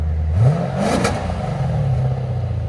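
Lexus RC F with a 5.0-liter V8 revs once with its Valvetronic exhaust valves shut, a subdued muffled rise and fall that settles back to a low idle, close by and alone.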